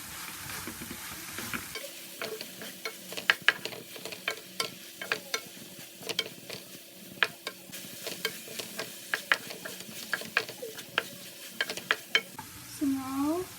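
A spoon stirs a tomato mixture seasoned with amchur powder in a pan, with a soft sizzle under many sharp clinks and scrapes against the metal in an uneven rhythm; a brief voice sounds at the very end.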